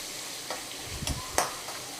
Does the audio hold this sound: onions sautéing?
yes